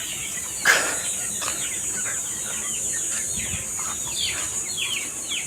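Ducks on a farm make a thin, continuous chorus of small calls and chatter, heard against a steady high insect hum with one brief louder knock near the start.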